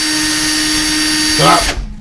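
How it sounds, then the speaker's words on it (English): A power sander whirs steadily with a constant high-pitched hum, sanding a part for an Axial Yeti XL RC truck, then briefly shifts and bogs down before cutting off abruptly. "the reason I'm sanding this down."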